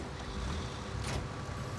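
A tractor engine in Farming Simulator 19 idling and rumbling as a steady, even drone, close and unbroken, with no voices.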